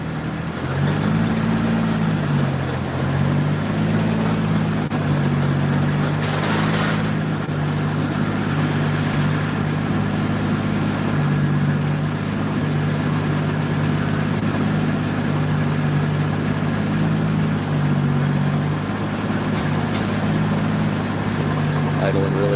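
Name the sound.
car engine idling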